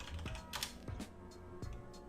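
Keystrokes on a computer keyboard while typing a search into a game's furniture menu, a handful of separate taps with short pauses between them, close and fairly quiet, with no voices.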